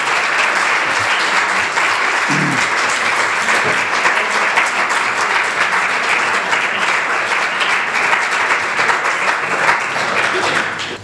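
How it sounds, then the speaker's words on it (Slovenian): Sustained applause from a large crowd at a session of the Slovenian National Council, steady and dense throughout, with no voices breaking through. "Gospod Semetinger, seveda aplavz tudi nekaj sporoča"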